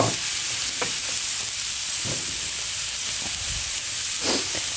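Thin pieces of meat hiss and sizzle steadily in hot oil in a pan, a close, constant broadband fry punctuated by a few soft clinks and stirring knocks.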